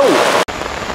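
Heavy rain pours onto a river, a loud, dense hiss that fills the whole moment and cuts out for an instant midway before resuming just as strong.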